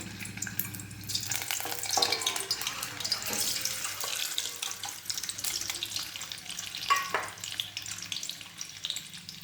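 Steady sizzling and crackling of eggs frying in hot oil in a kadhai, with occasional clinks and stirring noises, fairly close and continuous throughout.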